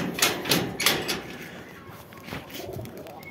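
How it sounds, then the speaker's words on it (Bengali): Pigeons cooing softly in a loft after being paired as breeding couples, a few low, rounded coos spread through the first second and again near the end, with a faint background murmur. "দীর্ঘ 11 মাস পরে কবুতরগুলোকে জোড়া দিলাম"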